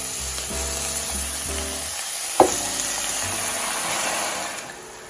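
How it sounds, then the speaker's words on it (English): Mushrooms stir-fried in a pan for a vegetable and mushroom stir-fry, with a steady hiss of sizzling, one sharp scrape or clatter near the middle and low rumbling underneath, loud and close with no talk. "Let it cook for about a minute or two, and stir in your mushrooms."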